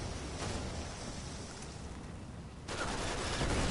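Grenade launcher fire and explosions in the action game Uncharted 3: a dense, continuous roar of blasts and gunfire that keeps going the whole time and gets heavier near the end, with no talk over it.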